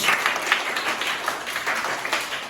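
Audience applause for a children's Sanskrit play by primary school pupils, a steady wash of clapping from a crowd lasting the whole moment with no voices over it.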